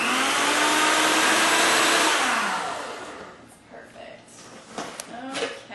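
A food processor pulses Southwestern ingredients, a loud whirring motor that runs steadily for about two seconds, then winds down and stops, followed by a few soft clatters and knocks.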